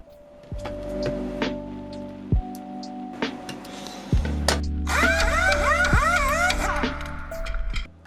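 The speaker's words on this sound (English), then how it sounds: "Unscrewing the plate from the PCB with my brand new cheap drill." A new, cheap power drill unscrews a keyboard plate from its PCB. The motor whines in short bursts, then revs up and down with rising and falling pitch, close and alone.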